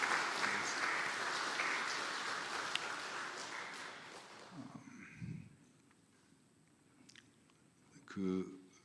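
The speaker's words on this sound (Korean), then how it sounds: "여러분 응원의 박수, 격려의 박수 해주시겠습니다." A church congregation gives a round of encouraging applause during a Sunday service, a soft, faint wash of clapping that fades out, followed by quiet room noise.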